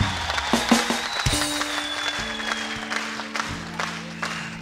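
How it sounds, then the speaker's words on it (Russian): An audience claps at a 2014 concert, a moderate wash of applause with scattered sharper claps that slowly fades, while sustained musical tones ring underneath. "можете повторить ваши бурные аплодисменты"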